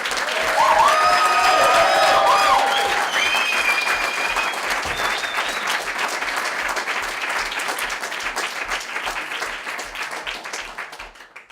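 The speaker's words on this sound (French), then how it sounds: "on peut les applaudir s'il vous plaît" An audience at a pitch event bursts into loud, dense applause with a few whoops, and the clapping slowly thins and fades toward the end.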